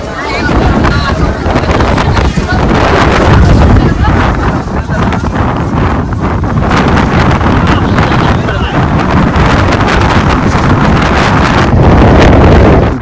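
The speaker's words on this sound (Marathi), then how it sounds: "बॅकग्राऊंडला मित्रांनो खूप वारा आहे" Strong, continuous wind roars and buffets the microphone on a high hilltop fort at Gaganbawada, a loud, steady rush with gusty swells throughout; a voice speaks faintly beneath it.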